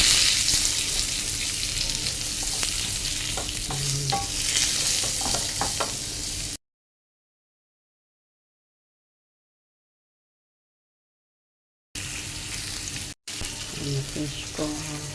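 Sliced onions frying and being stirred in a hot pan for a fish dish, a loud continuous sizzle broken by scraping and clinking stirs, with a long silent gap midway before the frying resumes.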